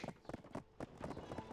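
Donkey hooves in the Black Desert Online video game clip-clop in a quick, even rhythm, a faint series of hollow taps close by.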